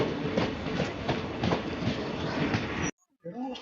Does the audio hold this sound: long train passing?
yes